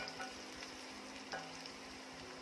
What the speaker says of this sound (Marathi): तर कांद्याचा रंग हलकेसा परतून घ्यायचा आहे.